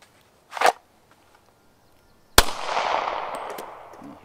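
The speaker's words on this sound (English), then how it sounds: "I'm going to take a couple shots at the target out here and see how it works." Two gunshots from an M&P 40 pistol fitted with a TLR1 light, fired outdoors at a target. A short sharp crack comes first, then a louder report whose long echoing tail fades over the next two seconds.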